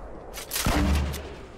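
Gunfire in Fortnite Season 6: a single loud burst of shots erupts partway through, ringing out briefly before fading into quiet game ambience.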